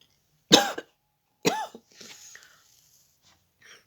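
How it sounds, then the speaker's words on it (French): A woman coughs twice in quick, loud, close bursts about a second apart, followed by softer throat sounds and breathing, with no talk over them. "Pardon pour la toux. Je suis désolée, ça recommence."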